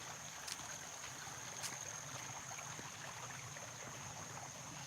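Water of a babbling stream runs steadily in a continuous low wash, with a couple of brief faint clicks or knocks nearby and no voices.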